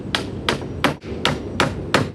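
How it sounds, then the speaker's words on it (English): Six sharp hammer strikes drive nails into a wooden fence gate with its picket, evenly spaced about every third of a second, each blow loud and close with no talking. "so we're going to nail it off"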